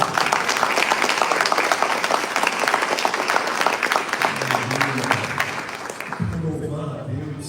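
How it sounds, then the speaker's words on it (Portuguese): Church congregation applauding in praise, a dense, steady wash of clapping filling the room, with voices and a sustained musical tone rising beneath it toward the end. "você pode aplaudir o nome do Senhor."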